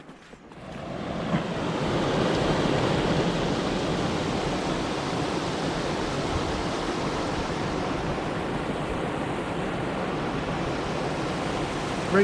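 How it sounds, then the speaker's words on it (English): High river water roars steadily over a weir on the River in Essex in December, a dense continuous rush heard close by, swelling in at the start and holding without voices. "Reached the weir, running very high."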